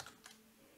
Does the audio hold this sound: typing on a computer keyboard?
yes